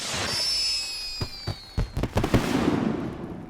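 Fireworks bursting in The Lord of the Rings Online, with whistling rising shells at first, then a run of sharp pops and bangs of varying loudness that gives way to crackling near the end.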